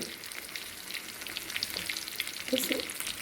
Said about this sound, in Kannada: ಎಲ್ಲ ಬುತ್ತೆಯನ್ನು ಫ್ರೈ ಮಾಡಿದ್ದೀನಿ